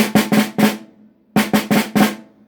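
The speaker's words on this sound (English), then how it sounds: "my other favorite rudiment name is called the pataflafla" Snare drum played in the pataflafla rudiment, two crisp groups of four strokes separated by a short pause, each hit sharp and close with a ringing snare buzz.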